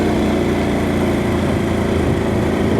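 A motorcycle engine labours in third gear up a steep hill on a windy day, giving a loud, steady, strained drone with wind buffeting and no talking.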